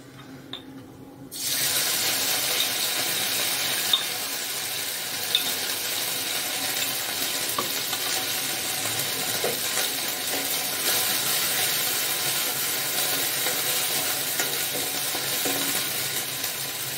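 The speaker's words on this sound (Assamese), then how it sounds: "আদা নহৰু ভজা হৈ গৈছে" Ginger and garlic fry in a pan with a steady, close sizzle that bursts in abruptly after a quiet first second and holds at an even level, with occasional faint clicks of stirring.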